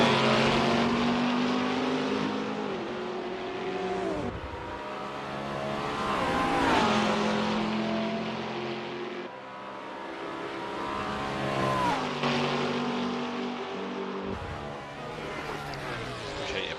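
Race car engines from an ATCC Sandown round in a sim racing game, Ford Mustang among them, drone and rise and fall in pitch steadily through the whole stretch, loud and continuous with overlapping cars.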